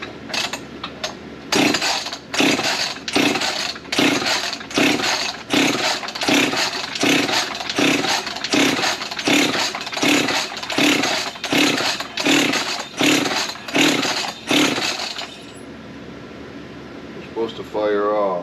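A Husqvarna 346xp chainsaw is pulled repeatedly with the choke set at high idle, giving about fifteen loud, evenly spaced rasping pulls over fifteen seconds without firing, then quiet.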